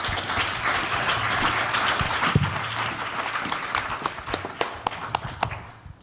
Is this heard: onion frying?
no